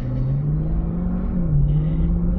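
A Lamborghini Urus SUV drives by with a steady engine rumble and whirring road noise that holds constant, with a slight pitch rise and fall partway through, close and fairly loud.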